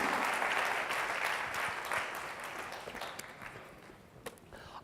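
Congregation applause during a church sermon, with loud continuous clapping that gradually fades away, followed by a sharp thump at the end.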